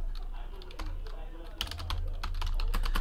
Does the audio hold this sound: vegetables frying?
no